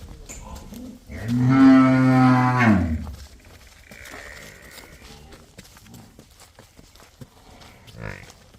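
A young female buffalo on a farm gives one loud, drawn-out moo lasting about two seconds. Quieter shuffling and faint background noise of the farmyard follow.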